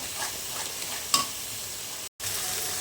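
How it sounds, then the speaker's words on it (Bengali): Spice masala sautés in a pan, a soft sizzle with stirring scrapes and one sharp clink of the spoon before a brief cut in sound. "এটা আগে ভালো করে একটু কষে নিই।"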